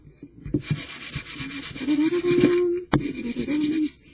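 Steady back-and-forth sandpaper rubbing along paper edges, close and fairly loud, with a sharp click partway through before the scraping strokes resume.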